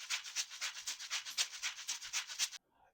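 A pitched-down shaker loop for an Afro House track gives a steady, rhythmic gritty shuffle, soft and even, before cutting off abruptly near the end.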